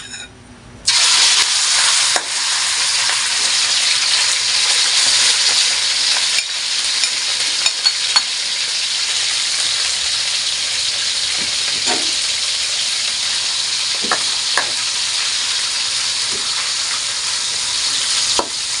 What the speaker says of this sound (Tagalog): Fry muna natin yung ating chicken.